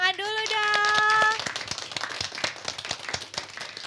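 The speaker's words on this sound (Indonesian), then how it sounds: "tepuk tangan dulu dong." Children clap their hands at an Indonesian elementary school event, the claps quick and irregular after a short sung or spoken tone, continuing as scattered group clapping.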